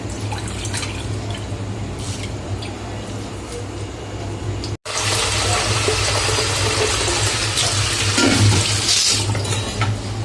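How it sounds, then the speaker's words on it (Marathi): Food being washed in water to remove sand, with close splashing, dripping and swishing that briefly cuts out, then returns louder and fuller. "जोपर्यंत पाणी स्वच्छ निघत नाही तोपर्यंत करायचं"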